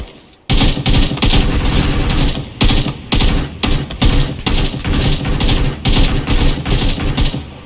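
Automatic gunfire in PUBG Lite on the Miramar map, loud bursts of rapid shots separated by brief gaps and repeating across the whole stretch.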